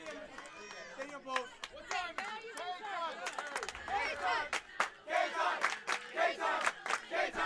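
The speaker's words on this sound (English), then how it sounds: "Elena's loving this crowd." Many voices shout and call out together from a high school baseball crowd, The First Academy against Trinity Catholic, forming a dense, steady roar with sharper yells rising toward the end.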